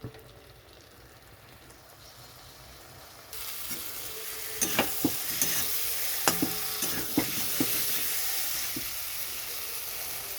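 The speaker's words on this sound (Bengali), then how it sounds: "এখন আমি গ্যাসটা বাড়িয়ে দিয়ে কষাতে থাকবো।" Stingray curry with potato sizzles and fries in a pan as it is stir-fried over raised gas heat, a steady hiss that grows louder partway through, with sharp spoon scrapes and clacks against the pan.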